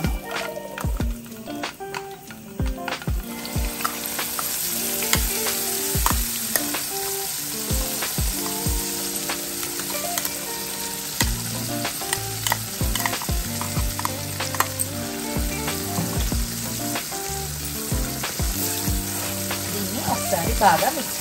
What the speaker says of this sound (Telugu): మనం పోపులో వేసుకున్న పచ్చడిని ఒకసారి బాగా కలుపుకుందాం